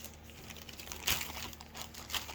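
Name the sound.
plastic bag crinkling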